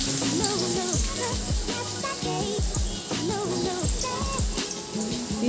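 Onions sizzle and crackle in hot oil tempering for dal, a busy, moderately quiet frying hiss with bubbling pops throughout.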